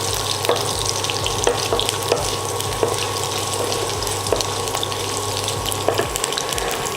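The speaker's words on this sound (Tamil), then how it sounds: "இஞ்சி கொஞ்சம் நல்லா ஃப்ரை ஆகட்டும்" Small thin-sliced pieces of ginger fry in hot oil with a steady, close sizzle and crackle throughout, with occasional soft clinks and stirring sounds and no talking.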